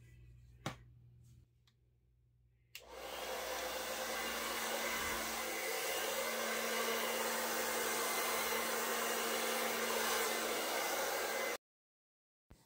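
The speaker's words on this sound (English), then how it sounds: "spread the paint out on the canvas with the blow dryer" A blow dryer spreads paint across a canvas in a Prussian blue acrylic pour, switching on after a few faint ticks and running as a steady, loud whooshing hum for about nine seconds before cutting off.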